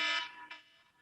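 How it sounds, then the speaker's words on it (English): Electronic alarm going off during an online meeting: a short burst of bright buzzing beeps, one longer tone followed by a brief second pulse, then fading quiet. "Sorry, that was my alarm."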